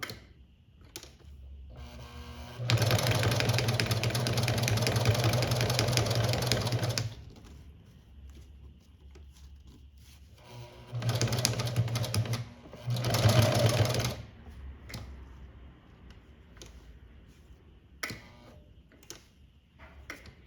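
Sewing machine stitching fabric for a cloth reliquary, running in a long burst and then two shorter bursts of rapid, steady needle rattle, with quiet handling pauses between them.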